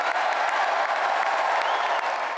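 Arena crowd of 20,000 cheering and applauding, a dense, continuous wash of clapping and cheers that stays loud and steady throughout, with no single voice standing out.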